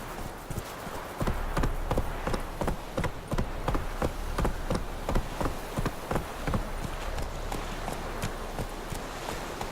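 Hooves of Roach, a horse in The Witcher 3 video game, clip-clop in a steady galloping rhythm, close and continuous, over a low rumbling background.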